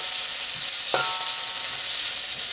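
Ginger and garlic stir-fried in a hot pan for a baby scallop dish, with a loud, continuous sizzle and a single spatula scrape partway through, no voices.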